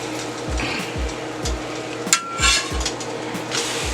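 A metal spatula works stuffed pancakes on a steel griddle, giving regular low knocks about every half second with a few sharper scrapes and clinks, close and clear against a light background hiss, with no talk.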